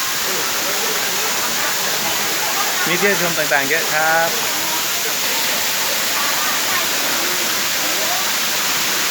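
Heavy, constant roar of Tham Soda waterfall in Nong Phok, Roi Et, crashing down a cliff in the rainy season, loud and close, with someone briefly talking over it.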